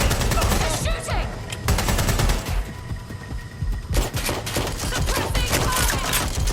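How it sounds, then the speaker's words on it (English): Heavy gunfire rips through a firefight in Watch Dogs Legion, with dense overlapping bursts and volleys close and loud, broken by a brief lull before the shooting surges again. "They're shooting!"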